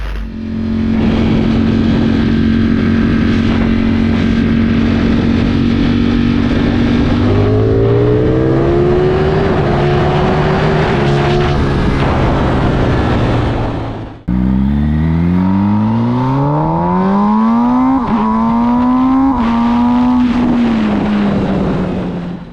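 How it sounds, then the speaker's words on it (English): A Ducati Streetfighter V4S or MV Agusta Brutale 1000 motorcycle engine revving loudly up close, holding a steady idle before climbing in pitch, then a second rising rev sweep after a brief break, with no talking. "This bike screams, but not as angrily as the Brutale."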